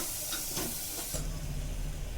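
Masala paste frying in a pan for spicy matar keema gives a close, steady hiss and sizzle that swells partway through and then holds level.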